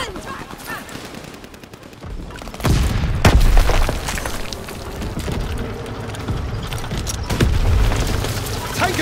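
A breach charge detonates in Call of Duty WWII with a heavy, booming blast, followed by continuous loud gunfire and battlefield din.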